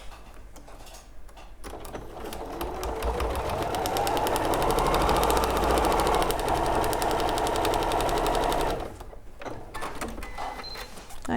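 A sewing machine runs steadily for several seconds, stitching a seam with a fast, even mechanical whirr and ticking, starting up and stopping, moderately close and without talk.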